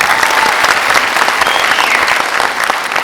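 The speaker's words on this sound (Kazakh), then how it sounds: "Жастар ЭПК бір шапалақтарыңыз" An audience bursts into loud, sustained applause at a Zhaidarman comedy league show in Ekibastuz, the clapping dense and continuous throughout.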